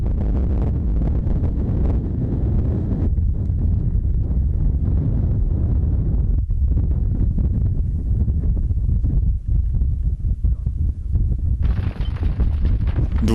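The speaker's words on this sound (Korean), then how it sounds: "눈보다 견디기 힘든 게 바람입니다." Strong wind roaring across the Siberian wilderness in spring, a loud continuous buffeting rush with gusty surges and heavy low rumble against the microphone, no voices.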